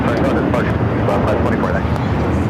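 Turkish Airlines Airbus A350 taking off from the north side runway at LAX, a steady broadband jet roar heard from a distance that holds level throughout, with faint voices talking over it.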